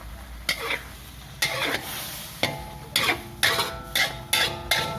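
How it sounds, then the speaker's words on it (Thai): Mixed leafy vegetables and egg being stir-fried in a wok, with rhythmic scraping stir strokes at roughly one-second intervals over a continuous close sizzle, no talking. "พอไข่สุกแล้วเราก็เอาผักลงไปอะค่ะ"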